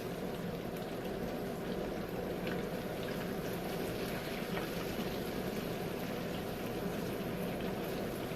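Garlic parmesan chicken wings fry in grease in a pot, giving a steady, soft bubbling hiss that stays even and unbroken, with no talking.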